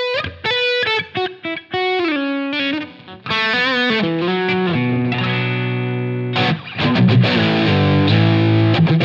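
An electric guitar, heavily distorted, plays through a Line 6 Helix amp modeler with the Greenback 25 cab, mixing fast picked riffs with sustained ringing chords. It is loud and alone, with no voices.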